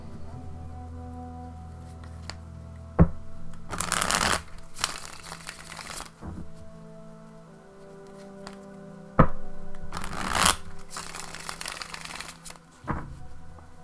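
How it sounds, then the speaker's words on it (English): Tarot cards are riffled and bridged in several quick bursts, with soft taps and quiet pauses between shuffles, close and fairly faint. "Just going to shuffle a few times here"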